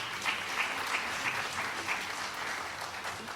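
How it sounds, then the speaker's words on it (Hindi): Audience at a stage play applauding, a steady wash of many hands clapping at moderate volume from across the hall, with no speech over it. "ताली बजाने का मन है तो ताली बजा लिया करो।"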